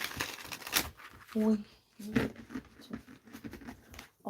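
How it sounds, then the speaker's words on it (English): Riffling, flapping card shuffles in short bursts, close by, with a person talking over and between them. "Some good shuffling going on."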